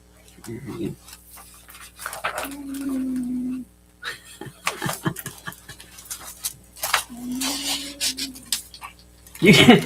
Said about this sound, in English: You can hear my dog in the UK.